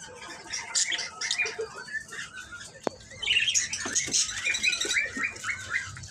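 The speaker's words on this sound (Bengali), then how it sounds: "এখানে দেখতেছেন কিছু লাভবাটের বাচ্চা" Many tame lovebird chicks chirping in a bird shop, a dense overlapping chatter of high, thin calls that swells louder partway through, with one sharp click near the middle.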